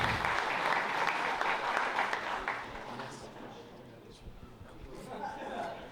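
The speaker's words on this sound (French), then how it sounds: "Applaudis, c'est parti pour Tom." Audience applause greets a keynote speaker at a pitch and networking evening in a salon, loud at first and then tapering off, with crowd chatter mixed in.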